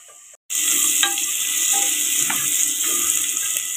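Onions sautéing in a pan for ponnanganni keerai kootu, a steady bright sizzle with occasional stirring scrapes, starting abruptly after a brief quiet moment and holding loud and close throughout.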